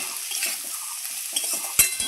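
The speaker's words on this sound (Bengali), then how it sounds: "দিয়ে আবারও আমি ভালো করে ভেজে নেব।" Mixed vegetables with bean seeds, seasoned with salt and turmeric, fry in a pan with a steady sizzle, stirred now and then, with a couple of sharp utensil knocks near the end.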